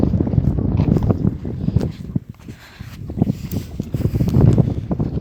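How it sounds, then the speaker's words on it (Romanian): Strong wind gusts across a vegetable garden and buffet the microphone in loud, rumbling bursts that ease briefly midway and then surge back, with no talking. "bate vântul foarte tare"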